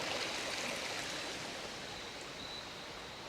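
Creek water rushes past wooden boards fixed along both sides and across the top in Cades Cove, a steady, even hiss of flowing water, soft and continuous with no voices.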